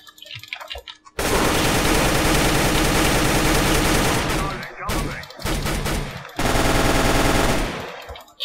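Rapid automatic gunfire rattles in a CS:GO-style shooter played in Minecraft, with long dense bursts broken by short gaps, loud and close.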